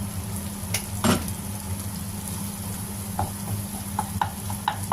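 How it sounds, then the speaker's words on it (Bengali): Fish roe frying and being stirred in a pan while bitter gourd is prepared, with a steady close sizzle and scraping stir strokes, a few sharper spatula clinks scattered through. "এখন ডিমটাকে আমি একটু ভালো করে আবার ভেজে নেব।"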